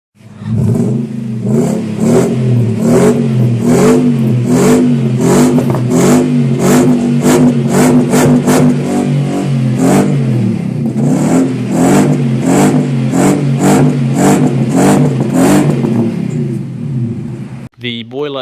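A car engine revs repeatedly through a loud exhaust with two mufflers and a resonator, deep rumbling swells rising and falling in rapid bursts, close by, before cutting off.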